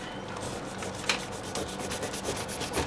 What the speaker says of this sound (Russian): И делим ананас наполовину, да, пополам режем.